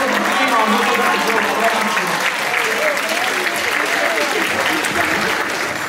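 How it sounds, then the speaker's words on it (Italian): Enthusiastic audience applause at a school Christmas show, a loud, dense and sustained wash of clapping from a large crowd, with faint voices and cheers mixed into the noise. "Facciamo un grande applauso"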